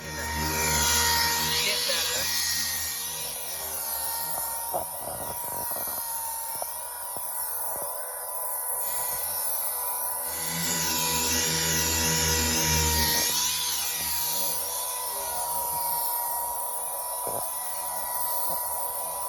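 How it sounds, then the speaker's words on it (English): A power scraper fitted with a chisel blade strips material from a Jeep being prepared for paint, giving a steady, loud, high-pitched mechanical whine that runs through the whole stretch while people talk over it. "One of them big power scrapers with a chisel blade on it."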